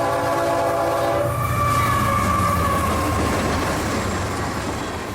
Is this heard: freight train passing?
yes